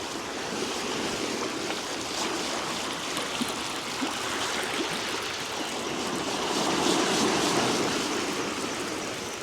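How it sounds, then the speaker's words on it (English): Tide water rushes along the Cardiff foreshore on the Bristol Channel in winter, a loud, continuous broadband wash with wind, swelling slightly toward the end. "That tide is pumping through."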